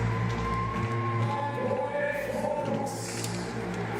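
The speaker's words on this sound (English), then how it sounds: "What a crowd, though. There always is here in Innsbruck." A large crowd at a women's climbing final in Innsbruck, a continuous roar of cheering and whooping with a steady hum underneath, no clear speech.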